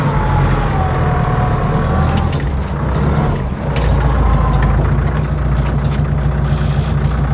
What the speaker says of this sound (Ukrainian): Так само вперед трогаюся, дивіться, пускаю спочатку щеплення, а потім даю газку.